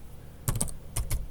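Keystrokes on a computer keyboard, two short bursts of several quick, crisp clicks each, close and fairly quiet with a pause between them.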